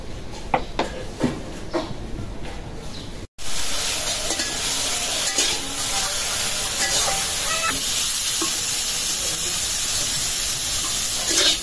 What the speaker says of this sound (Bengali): মিষ্টি কুমড়া শাকটা ভাজার জন্য